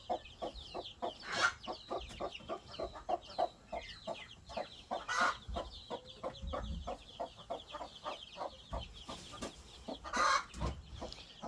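A mother hen clucks repeatedly while chasing a baby chick among a backyard flock under a peach tree, short rhythmic clucks in quick series with a few louder squawks and other fowl calling nearby.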